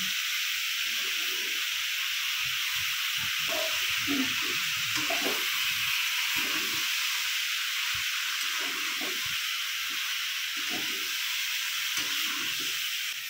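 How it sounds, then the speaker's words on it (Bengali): Mixed vegetables and pumpkin stems fry in a pan, a constant hissing sizzle with soft scraping stirs and clinks of a utensil scattered through it, close and moderately loud, no talking. "সব সবজিগুলোকে ভালো করে ভেজে নিয়েছি।"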